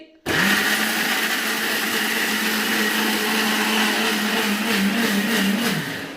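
A mixer grinder blending chutney starts abruptly and whirs loudly at a steady high pitch for several seconds, then begins winding down near the end.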